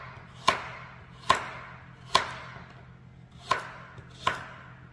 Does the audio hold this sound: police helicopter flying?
no